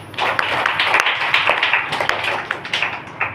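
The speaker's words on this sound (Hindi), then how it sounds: "भैया के लिए ताली बजाओ जोरदार" A church audience claps loudly for a young man, brisk overlapping hand claps forming a lively, uneven burst of applause with no talking.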